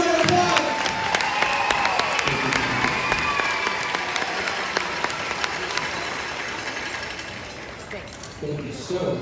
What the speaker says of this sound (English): We give them a huge round of applause